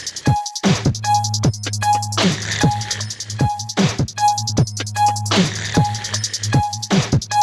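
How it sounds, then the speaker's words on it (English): A voice beatboxes a rhythmic, pulsing bass wobble, with sharp percussive clicks and hisses repeating in a steady pattern, built on an RC-505mkII loop station. "we're going to go to create this kind of wobble effect"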